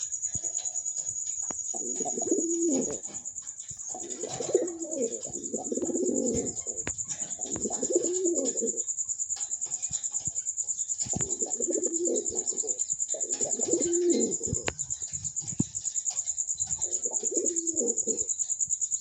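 Pigeons coo in repeated low, rolling phrases with short pauses between them, close by, over a constant high insect-like whine and occasional faint chirps.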